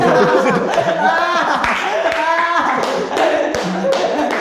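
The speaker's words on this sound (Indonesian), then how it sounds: "Boleh minta tepuk tangannya semua." Audience applause at a stand-up comedy show in Medan, scattered claps and taps mixed with chuckles and a voice talking over them.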